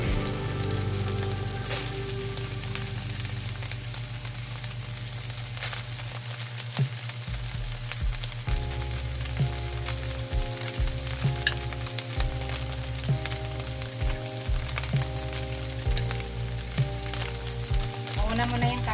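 Beef and carrots fry in a pan for a ground beef and vegetable dish, a steady close sizzle with crackles and scraping stirs, plus background music, running throughout with no talk.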